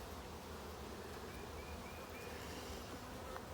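Honey bees buzz around a starter hive, a steady, dense drone of many insects that holds constantly throughout without a break.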